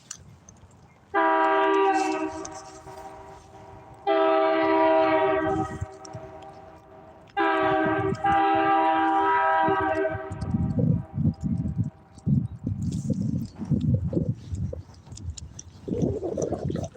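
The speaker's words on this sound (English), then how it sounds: "I hear the train coming." Approaching train sounds three long, loud horn blasts close by, each a few seconds long, followed by heavy rumbling of the passing rail cars.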